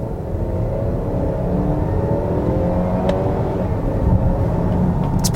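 A 2018 Volvo XC60's 250-horsepower turbocharged four-cylinder pulls under acceleration, a steady low engine drone with rising tonal whine heard from inside the cabin, constant and fairly loud, no talk.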